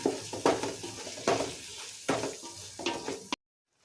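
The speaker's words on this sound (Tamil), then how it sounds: "இப்போ இது எல்லாத்தையும் நல்லா மிக்ஸ் பண்ணிக்கலாம்" Biryani masala being stirred with fresh coriander and mint in a pot for Ambur chicken biryani, with a spoon scraping and clinking in about six rhythmic strokes over a low sizzle, close and clear, then stopping abruptly.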